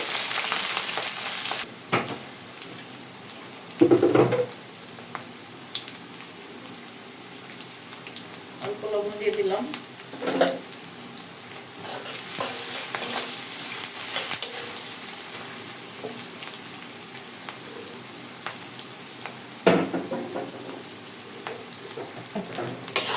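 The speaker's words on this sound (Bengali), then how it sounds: "কাঁচা মরিচ খালি এবং পেঁয়াজ দিয়ে দিলাম আমার তেলগুলো গরম হয়ে গিয়েছে" Green chilies and onion fry in hot oil in a home kitchen pan for a fish and potato curry, giving a steady soft sizzle with a few louder stirring scrapes and clatters.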